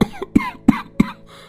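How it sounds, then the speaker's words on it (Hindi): Four sharp coughs from an older man at a family meal, evenly spaced about a third of a second apart, close and fairly loud, with a faint breathy tail after the last. "पापा जी, आपको खांसी हो गई है"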